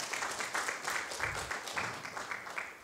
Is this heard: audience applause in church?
yes